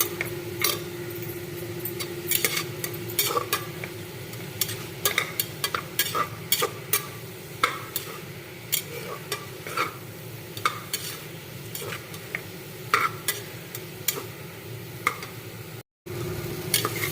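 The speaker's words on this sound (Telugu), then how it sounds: "ఉల్లి టమాటా వేగాలి అంటే కొంచెం సాల్ట్ వేసుకుంటే తొందరగా ఉల్లిపాయలు మగ్గిపోతాయి" Onions and tomatoes frying in a pan with salt added, a continuous close sizzle broken by frequent sharp clicks and taps of a spoon stirring against the pan, with a brief dropout near the end.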